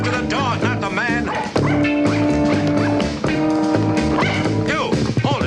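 A dog barking and yipping over a busy, loud music bed, the short barks scattered throughout a cartoon scene.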